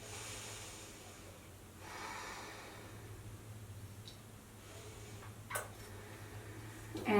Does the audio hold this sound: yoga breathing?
yes